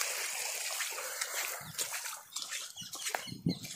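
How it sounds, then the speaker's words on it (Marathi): A small spring of water trickles and splashes steadily, close by, with a continuous bright wash and a few soft splatters and low gurgles toward the end; no one speaks. "आणखी एक आपल्याला पाण्याचा झरणा टाईप छोटासा मिळालेला आहे"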